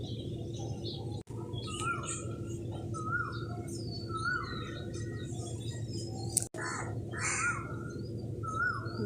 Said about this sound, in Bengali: সকাল সকাল টি কোকিল ডাকে।